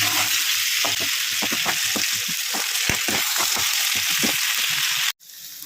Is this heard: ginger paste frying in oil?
yes